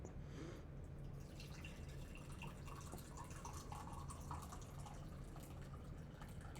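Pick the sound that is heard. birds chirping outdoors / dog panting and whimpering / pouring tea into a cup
pouring tea into a cup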